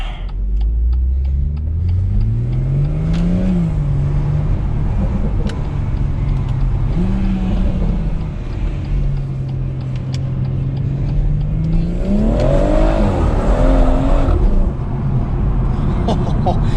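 A BMW M140i engine hums steadily at night and rises in pitch a few times as it revs, the last rev loudest, with a voice speaking over it.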